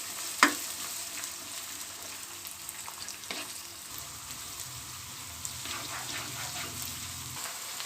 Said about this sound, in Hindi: इसे हल्का हल्का सा लाइट गोल्डन टच देंगे, यानी कि गोल्डन ब्राउन करेंगे